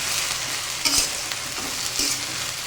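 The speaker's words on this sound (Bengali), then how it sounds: "এবার এটাকে ভালোভাবে নেড়ে চেড়ে মিশিয়ে নিই।" Tender jute leaves sizzle in a pan, a steady hiss broken by a couple of quick scraping stirs of the spatula, close and fairly loud with no voices.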